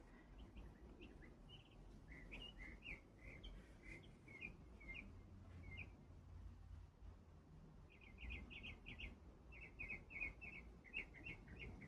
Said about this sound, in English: I'm just loving the birds right now.